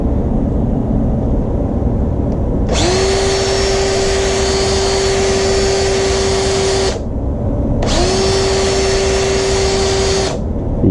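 A 3/16 drill reaming a nitro RC clutch part on a Traxxas Revo 3.3, two loud sustained whining bursts of about four and three seconds each, separated by a short pause, with no talk over them.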